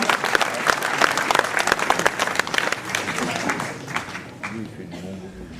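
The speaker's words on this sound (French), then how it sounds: "Et je crois qu'on peut l'applaudir et le remercier parce qu'il fait un beau travail au quotidien." Audience at a mayor's New Year ceremony in the Ouistreham town hall applauds a medal recipient, with dense clapping that fades over several seconds as voices start to talk underneath.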